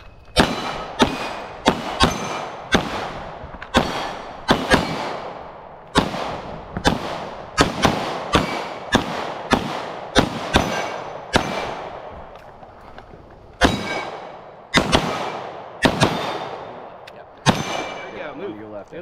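Pistol shots fired at a shooting match ring out in a long series of sharp, loud cracks, some in quick pairs and others spaced apart, each with a short echoing decay, and no speech between them.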